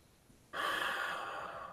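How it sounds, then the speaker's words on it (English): A long, steady breath drawn in through the nose during a new moon meditation ceremony, starting abruptly and holding as an airy, close hiss for over a second. "on the count of 3, we'll start breathing in."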